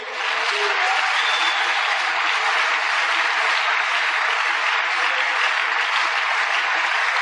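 A church congregation at a Spanish-language sermon applauds together, a thick, continuous wash of clapping that sets in almost at once and stays loud and even throughout, with no voices over it.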